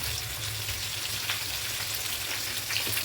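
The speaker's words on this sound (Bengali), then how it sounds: "দেখুন আমার আলু বেগুনটা প্রায় ভাজা ভাজা হয়ে এসছে" Sliced potato and eggplant fry in hot oil with a steady, dense sizzle and crackle that runs unbroken throughout, close and moderately loud, with no voices.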